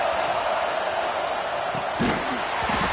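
A football stadium crowd roars steadily as the home fans try to spur their defense to a red zone stop. The dense, loud noise is broken by a couple of sharp thumps near the end.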